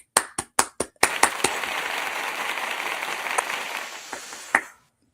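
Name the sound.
audience clapping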